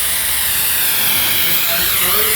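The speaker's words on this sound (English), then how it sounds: "So you kind of go over with the torch until you get rid of all of them." A torch flame hisses loudly and steadily at close range, burning contaminants off an oil pan during a 2JZ stroker engine long-block assembly.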